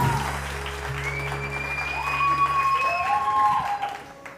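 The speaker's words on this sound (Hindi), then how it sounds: "बहुत सारी तालियां जी।" A lively studio audience on a TV morning show breaks into applause, a steady patter of clapping that swells and then fades out over a few seconds, with a low hum underneath.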